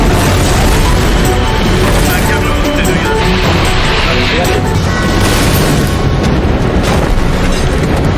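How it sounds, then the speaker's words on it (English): Gas tanks explode near a burning passenger train, making a loud, continuous barrage of heavy booms and roaring blasts that fills the whole stretch. "The explosions send tanks flying through the air,"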